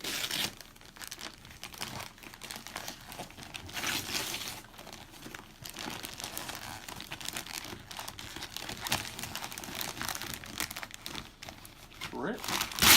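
Cardboard gender reveal box being torn and crinkled open, a continuous rustling and ripping that runs the whole time under excited voices talking.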